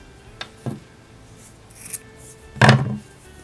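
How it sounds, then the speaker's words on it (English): Scissors snip through crochet yarn close by: a couple of small clicks, then one louder, crisp cut, with no talking. "Now I'm going to cut my yarn, and I'm going to leave a little bit of a longer tail."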